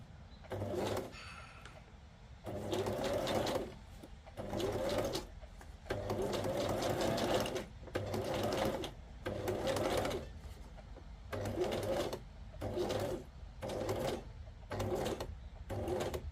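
A sewing machine stitches through fabric scraps in a steady series of short whirring runs separated by brief pauses, close and clear, with no talking.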